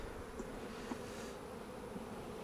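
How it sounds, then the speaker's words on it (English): Honey bees drone steadily from an opened hive as a beekeeper works frames and shakes bees out of a box, treating for mites; a dense, even hum fills the whole moment with no voices. "Here's a nice frame of bees."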